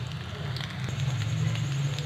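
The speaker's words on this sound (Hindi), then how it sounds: "ये देखें सारे बॉल अच्छे से गोल्डन फ्राई हो गए हैं" Potato and egg balls deep-fry to golden in hot oil, giving a continuous fizzing crackle and sizzle with scattered sharper pops, close by and fairly quiet.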